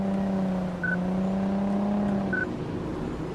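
A Lexus-style LX500 luxury car in Car Mechanic Simulator 2014 accelerates with a steady, smooth engine hum and rising whir, with no voices.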